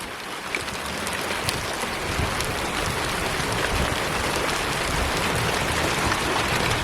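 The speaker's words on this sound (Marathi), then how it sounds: "बाहेर पाऊस पडायला सुरुवात झाली आहे." Heavy unseasonal rain pours down in Konkan in the middle of the day, a dense, steady hiss and patter that swells slightly louder over several seconds, with no voices.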